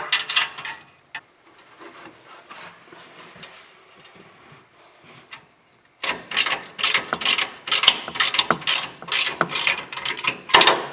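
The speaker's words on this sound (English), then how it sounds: "I'm going to try this with my breaker bar" A breaker bar works on tight exhaust bolts under a C8 Corvette, giving close rasping, ratcheting clicks and metal rubs in short bursts, quieter at first and then louder and busier.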